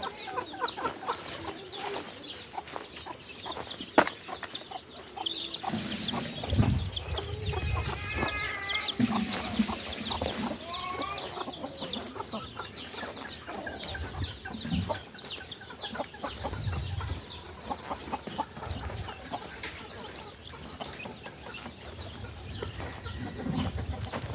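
Chickens on a rural farm cluck and chatter steadily, with repeated nearby calls overlapping across the whole stretch against quiet outdoor ambience.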